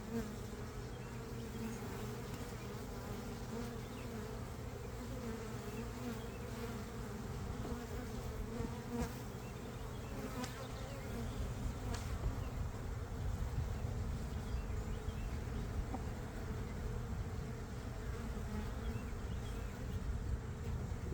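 A honey bee swarm hums steadily around the hive, a dense, continuous buzz that stays fairly faint, with no talk over it.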